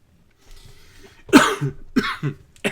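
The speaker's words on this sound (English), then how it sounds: "My cough." A burst of several harsh coughs, close and loud, coming in quick succession after a quiet moment.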